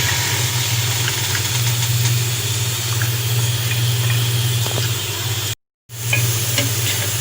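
Finely chopped garlic cloves frying in two to three spoons of oil in a pan make a steady close sizzle over a low constant hum, broken by a brief dropout near the end.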